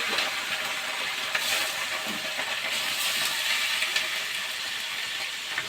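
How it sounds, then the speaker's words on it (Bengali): Prawns frying in hot oil give a steady, even sizzling hiss, moderately loud and continuous throughout, with no talking. "চিংড়ি মাছটা এবারে ভেজে নিচ্ছি।"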